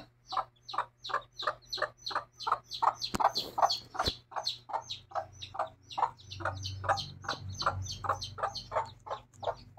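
Mother hen clucking with her chicks, a rapid, regular run of soft clucks close up, joined by faint high peeps, over a low steady background hum.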